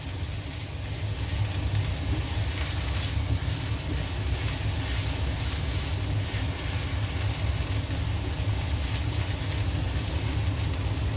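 Chopped garlic fries in hot oil in a pan for a ground pork dish, giving a steady, dense sizzling hiss that runs unbroken and fairly loud for the whole stretch.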